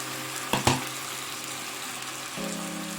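Chopped Malabar spinach greens dropping into a hot pan, with two sharp bursts of sizzling early on, then a steady low frying hiss and a faint hum rising near the end.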